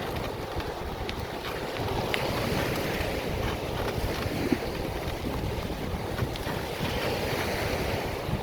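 Ocean surf washing steadily onto a Sanibel Island beach in Florida, a continuous broadband roar with wind buffeting the microphone throughout, no voices.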